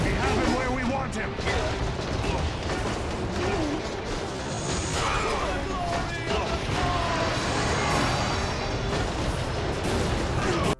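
Gunfire and crashing explosions from the PS2 shooter Black, played on the PCSX2 emulator, with dense bursts of shots and impacts filling the scene while voices talk over the action.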